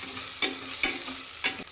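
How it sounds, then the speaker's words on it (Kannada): Grated coconut fries in hot oil with a constant close sizzle, and three sharp scraping stir strokes cut through it in quick succession. "ಅದನ್ನು ಸ್ವಲ್ಪ ಎಣ್ಣೆಯಲ್ಲಿ ಚೆನ್ನಾಗಿ ಫ್ರೈ ಮಾಡ್ಕೋಬೇಕು."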